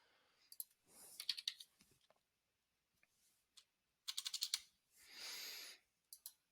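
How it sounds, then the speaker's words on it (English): Keys clicking on a computer keyboard in short, quiet bursts of rapid taps, with a few isolated clicks and a soft breathy rustle between them, close and with no talking. "I can start typing Ethereum"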